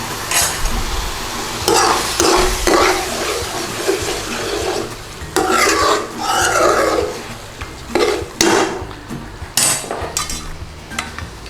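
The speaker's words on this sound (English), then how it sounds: "So get your base gravy in there, stir it in." Base gravy being stirred into chicken dopiaza in a hot pan, with loud wet scraping strokes and steady sizzling in repeated bursts, close and alone without talk.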